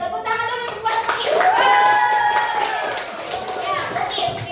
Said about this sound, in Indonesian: Tepuk tangan dulu buat Mugis.